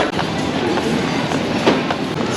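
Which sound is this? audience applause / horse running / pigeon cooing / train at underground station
train at underground station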